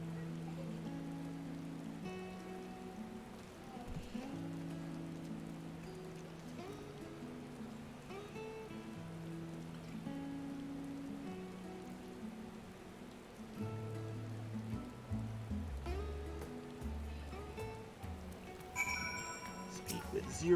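Steady rain falling in a video game, a continuous hiss and patter of drops running under tonal game music throughout, moderately loud and constant.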